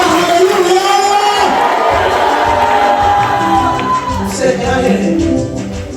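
A church congregation at a worship service cheers loudly with whoops and shouts, a dense sustained crowd roar close by, with voices speaking through it.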